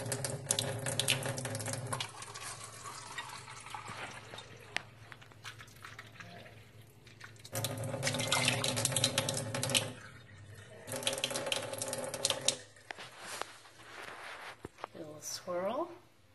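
Filtered water running from a household tap into a sink in bursts, starting and stopping several times, with a steady splashing stream close by and a person talking between runs.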